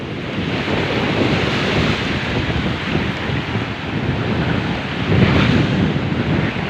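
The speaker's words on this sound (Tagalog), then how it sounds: "halos ilang linggo na rin na malalaki ang alon dito tsaka ang lamig-lamig ng hangin" Big sea waves crash steadily with strong, cold wind buffeting the microphone near a fish corral on the open coast, a loud continuous roar with swells building and surging.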